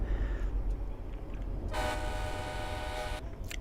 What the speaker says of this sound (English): Oh, it's hissing. We like hissing trains.